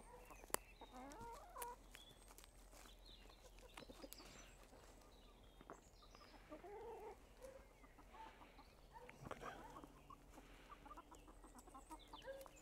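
Chickens clucking and scratching at weeds in the ground, soft intermittent clucks and calls heard at moderate distance over a quiet outdoor background, no talk.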